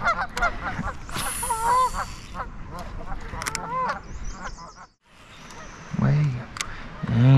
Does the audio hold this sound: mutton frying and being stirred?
no